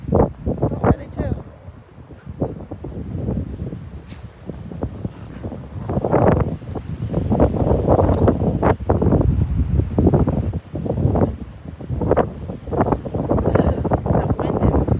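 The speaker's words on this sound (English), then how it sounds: "That wind is cold." Cold wind gusts outdoors, buffeting the microphone in loud, irregular bursts of rumbling noise around puppies.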